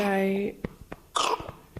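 A baby recently out of hospital gives a few short, raspy coughs after a brief vocal sound, close and fairly quiet.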